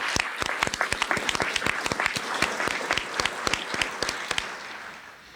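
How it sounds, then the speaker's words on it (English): A conference audience at a general session gives applause, with distinct, sharp individual claps standing out over a dense patter of hands before tapering off near the end. "Let's give these gentlemen a round of applause."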